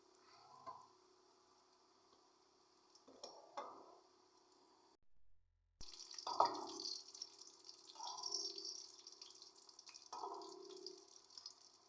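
Egg balls fry in hot oil with a steady, fairly quiet sizzle that stops briefly and then resumes, broken by soft wet crackles and drips.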